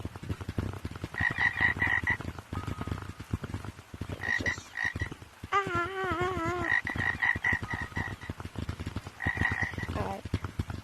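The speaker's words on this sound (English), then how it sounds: "Then we have the frog." Frog croaking from a cosmetic item in the video game Gorilla Tag, a series of bright ribbiting croaks in short bursts, one warbling call in the middle, over a background of clicks and game noise.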